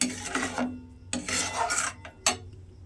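Pieces of bottle gourd are stirred with sugar in a pan. A few distinct rasping scrapes of a spatula come in short bursts, separated by brief quiet gaps.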